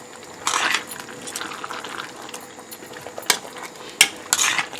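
Chickpea curry with salt being stirred in a pan, giving a few short scraping bursts of spoon against metal and a soft sizzle beneath, fairly close and with no talking.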